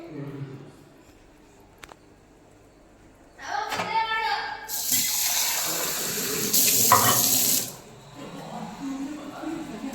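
After a few kitchen clinks and a short voice, water is poured into a pan of tomatoes for mutton pulao with a loud rushing hiss lasting a few seconds, then fades.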